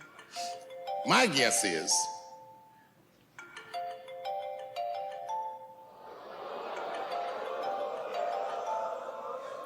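A phone's ringtone goes off during a recording, repeated melodic chime tones cutting in near and fairly loud, then fading into a broad hiss as people talk over it.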